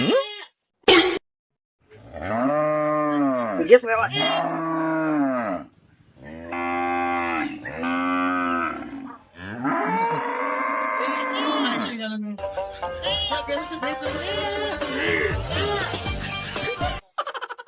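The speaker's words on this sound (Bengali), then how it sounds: "আরে চাচার গরু নাই, ওরা যে চুরি করে নিয়ে যাচ্ছে।" Several loud, drawn-out cow moos follow one another with short pauses, close by, with rougher bellowing grunts near the end.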